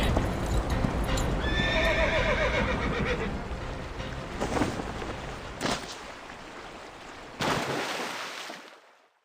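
A horse whinnies loudly over the rhythmic clatter of galloping hooves in the video game Reverse: 1999, the pounding continuing and then fading out.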